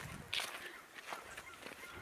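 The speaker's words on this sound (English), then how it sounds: "with the sound of geese." Geese honk beside a river in autumn, several scattered nasal calls at moderate distance, some overlapping, over a soft outdoor background with no talk.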